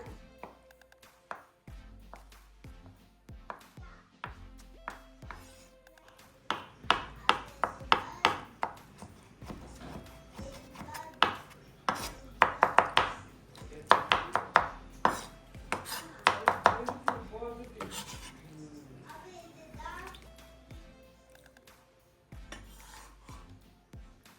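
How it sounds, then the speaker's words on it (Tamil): Nungu, or ice apple, being cut into small pieces in a kitchen, with a run of sharp knife taps and scraping strokes against a board or dish, quickening and growing louder in the middle before easing off. "நான் இந்த மாதிரி சின்ன சின்னதாக வந்து கட் பண்ணிக்கிறேன்"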